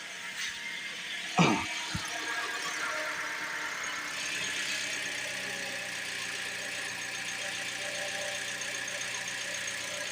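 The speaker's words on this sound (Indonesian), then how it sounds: "Mesin udah nyala." A car engine idles steadily at moderate level for about ten seconds while its battery is checked with a digital tester, with a brief knock or clunk near the start.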